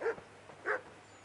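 A couple of dogs give short, fairly quiet barks, two distinct yips about half a second apart, in a medieval town in the video game Kingdom Come: Deliverance.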